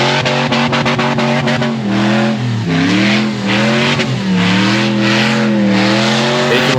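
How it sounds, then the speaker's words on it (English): A front-wheel-drive vehicle's engine revs hard and continuously near the limiter as it launches up a sand hill at Sand Hollow, loud and close with rising and falling pitch. "We got to be a little impressed that I just launched up that in front wheel drive."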